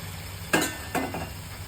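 Chicken cooking in oily masala, stirred in a pan, with a quiet sizzle and two sharp scraping clinks of a spoon against metal, close up and with no talking.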